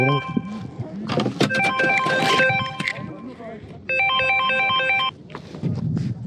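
A phone ringtone chimes aboard a small fishing boat out for webfoot octopus and cuttlefish, a repeating electronic melody in two bursts, the second loud and steady for about a second, amid engine rumble and nearby talking.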